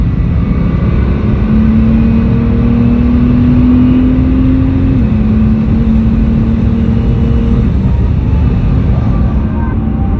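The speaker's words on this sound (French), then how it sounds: "Juste elle s'arrête pas d'accélérer. C'est une machine de guerre." A Porsche 911 Turbo S accelerates hard, its engine a loud, close drone that climbs steadily in pitch, drops briefly at a gear change, then pulls on under heavy road and wind noise.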